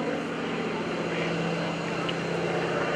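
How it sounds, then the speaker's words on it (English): A steady, rumbling T-6 Texan propeller plane's 600-horsepower Pratt & Whitney radial engine drones loudly and continuously nearby, with a constant low growl and no pauses. "It's got that growler engine as well."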